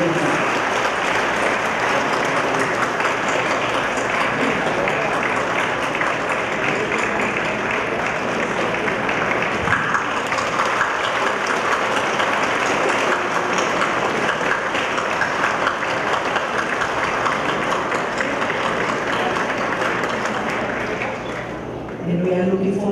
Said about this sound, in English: ask for a round of applause to the women of the Philippines that have been serving